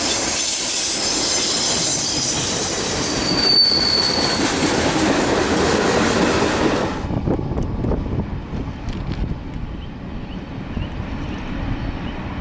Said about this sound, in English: An SD40-2 is on the point of this eastbound as it approaches Collier.